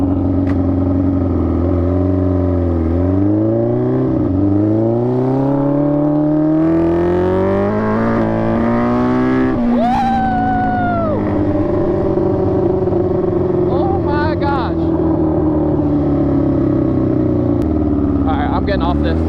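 A 700cc sport-bike engine swapped into a quad revs loudly and close, its pitch sweeping up and down through repeated throttle blips before settling into a high, sustained wail.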